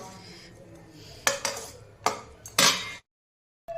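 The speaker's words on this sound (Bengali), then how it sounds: "দেখো, মাংসটাকে আমি ঢেলে দিয়েছি।" Cooked duck meat is tipped from a pressure cooker into a pan: three sharp metallic clanks and scrapes of cookware, loud and close, followed by a pause.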